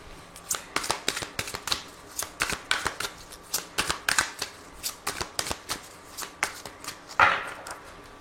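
Tarot cards shuffled by hand in a steady run of brisk riffling bursts, close and clear, with a sharper card snap near the end.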